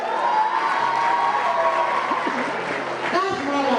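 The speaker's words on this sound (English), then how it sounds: "Best in Science in SS3, please, he deserves your applause." Audience applause and cheering at a school award ceremony, a dense, steady wash of clapping with shouts and whoops mixed in. A voice speaks over the crowd near the end.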